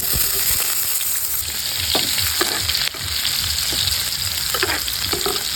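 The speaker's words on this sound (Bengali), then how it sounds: "তেল গরম হয়ে গেছে তো এবার দিয়ে দিচ্ছি পেঁয়াজ কুচি" Chopped onion fries in hot oil, a loud, dense, close sizzle that holds steady throughout, punctuated by occasional stirring scrapes, with no one speaking.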